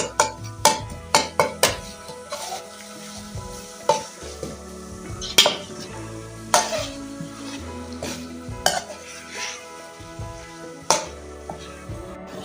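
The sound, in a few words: frying chicken feet in masala in a pot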